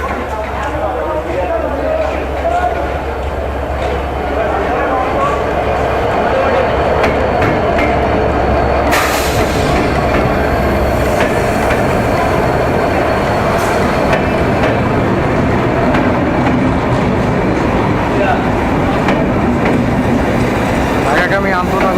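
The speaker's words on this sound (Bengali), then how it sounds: "ঢাকাগামী আন্তনগরের ট্রেনটি ইতিমধ্যে আমাদের মাঝে আসলো।" Dhaka-bound intercity train arriving at Vanga railway station in Faridpur, a loud continuous rumble and rattle of rail cars close by with a steady low engine drone, under voices and platform bustle.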